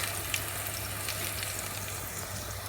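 Ground masala paste hits hot oil and sizzles, a dense, steady frying hiss that holds evenly throughout with faint crackles, close and fairly loud, no voices.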